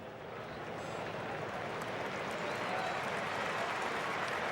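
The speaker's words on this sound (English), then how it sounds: "Deserves a warm round of applause from the Cork appreciative fans" Cork hurling fans at a Munster championship match against Waterford applaud a substituted player, a broad, even wash of distant stadium clapping and crowd noise that holds steady throughout.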